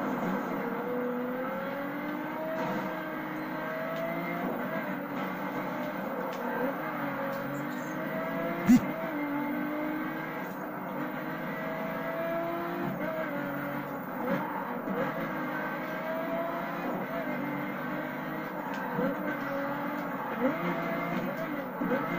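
Race cars in the video game The Crew run a steady engine drone under ongoing talk, with one sharp click partway through.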